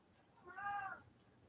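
A house cat gives a single short meow in the background, faint and alone.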